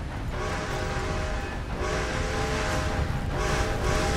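A freight train rolling past in Red Dead Redemption 2, a steady loud rumble and clatter of rail cars with a sustained tonal drone, close and continuous throughout with no talk.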